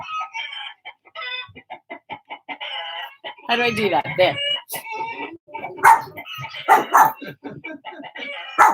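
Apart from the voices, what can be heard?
recorded chickens clucking and crowing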